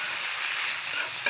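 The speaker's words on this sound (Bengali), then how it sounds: "এখন নেড়ে দিচ্ছি।" Raw mango pickle being stirred with white vinegar, a soft continuous wet scraping and hiss lasting just over a second, with a brief sharper scrape at the end and no talking.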